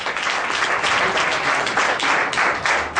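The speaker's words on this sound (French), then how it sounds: "Et voilà, ça s'applaudit s'il vous plaît." Applause from an audience at a business show award ceremony, a steady crowd of hands clapping continuously at moderate loudness.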